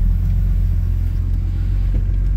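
Rough idle from a 2004.5 Ram 3500 diesel engine that starts slowly, a loud, close, uneven low rumble pulsing steadily, with no voices.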